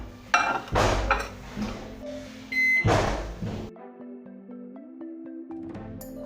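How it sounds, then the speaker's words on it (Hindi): Several loud clattering bursts, then a Morphy Richards microwave oven's steady low hum runs with faint beeps and ticks over it while reheating biscuits. "इन्हें भी हम 30 सेकंड से 1 मिनट तक माइक्रोवेव कर लेंगे"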